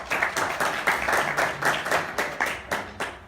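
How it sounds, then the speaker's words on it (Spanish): Audience applause for a professor before a lecture, steady rhythmic clapping from a modest group, fairly close and loud, with slight pulsing throughout. "un fuerte aplauso para el profesor"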